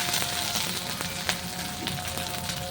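Ginger-garlic paste with browned onions sizzling in hot oil for a koi fish bhuna, a dense continuous crackle close by with a few sharp clicks of a spatula stirring through it; no voices.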